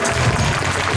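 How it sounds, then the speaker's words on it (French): Audience applause at a costume contest awards ceremony at a geek convention in Lons-le-Saunier, a brief loud, dense wash of clapping in a reverberant hall with a low hum underneath. "on l'applaudit quand même"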